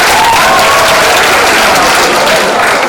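A crowd at a sports festival event claps loudly and continuously, a dense wash of hands close by that carries on evenly across the whole stretch.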